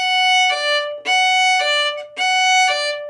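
Violin crossing strings in a Vivaldi concerto passage: three bowed phrases of quickly alternating notes, each with a brief pause between, close and clear, with no voices.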